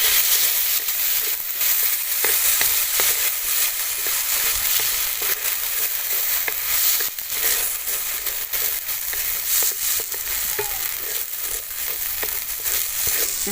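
Rice frying in a pan with continuous bright sizzling and occasional crackles and stirring scrapes, close and steady throughout.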